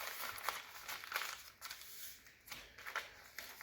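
Newspaper rustles and crinkles in short, quiet bursts as it is folded and tucked under into a paper pot for seedlings, close by, with no one speaking.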